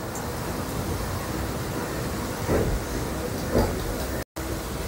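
An EMU local train from the Narkeldanga car shed, Eastern Railway, runs from Sealdah toward Dankuni with a steady, close rumble and rushing noise. A couple of faint thumps sit in the drone, with no voices.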